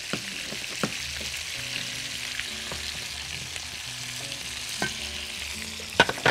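Zucchini fries in oil and butter with garlic, a steady soft sizzle and crackle filling the pan, with a few light clinks and stirring knocks from a utensil, moderately quiet and close, with no talking.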